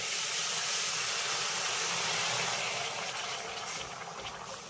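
Cold water poured into a pan of hot caramel for sweet curd, giving a steady steamy hiss and bubbling that fades slightly toward the end.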